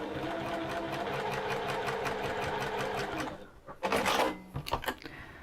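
A sewing machine stitches fabric for a beach hut pouch, running in a steady, fast whirring rhythm for a few seconds before stopping, followed by a few loud clunks and handling knocks.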